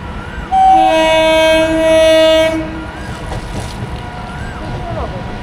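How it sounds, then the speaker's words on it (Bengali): A Kalyani Simanta train arriving at Ichapur station sounds a loud, sustained multi-tone horn for about two seconds, then its rumble continues beneath faint background talk. "কোন ট্রেন আসছে এটা,"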